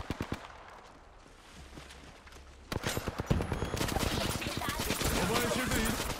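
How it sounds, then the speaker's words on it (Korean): Rapid automatic gunfire in an Apex Legends match while playing Newcastle, starting as a quieter background after a few seconds then breaking into loud, dense near bursts that continue steadily to the end. "사격 중."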